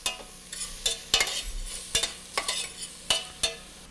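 Mushrooms sautéing in a pan for risotto get stirred, with sharp utensil scrapes and clacks against the pan in an uneven rhythm over a quiet, faint sizzle, close up with no talking.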